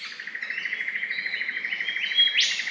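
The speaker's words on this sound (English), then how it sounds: "Birds everywhere." Wild birds chirping around a campsite on the Sunshine Coast, a close rapid series of bright repeated tweets with overlapping calls and a sharper note near the end, no voices.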